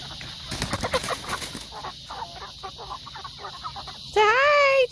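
Meat chickens cluck softly with scattered bird calls under background noise on a farm, a bright, sweeping squawk rising near the end.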